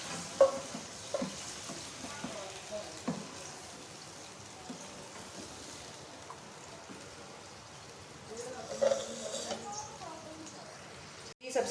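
Chicken fries in a pan, giving a quiet, steady sizzle with occasional stirring clinks and a louder burst of crackling toward the end.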